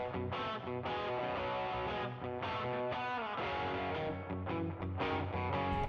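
The right-side electric guitar, run through a driven amp patch in a country rock mix, chugs through sustained chords and rhythmic strums, full and steady without any voice over it.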